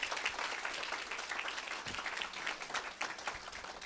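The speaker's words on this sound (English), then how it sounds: "let's give our maintenance department a round of applause" Audience applause for a school maintenance department at a board room ribbon cutting, steady dense clapping from a crowd throughout, moderately loud with no talk.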